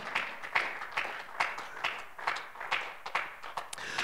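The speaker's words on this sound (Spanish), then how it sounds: "Dale un fuerte aplauso al Señor" Church congregation clapping hands in praise, a steady run of sharp overlapping claps with uneven rhythm, fairly close and full, no talk over it.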